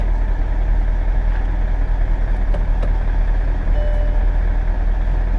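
A 2001 Mercedes S600 with a V12 engine idles steadily with a low, even hum and rumble. A faint tone sounds briefly partway through, and no one speaks.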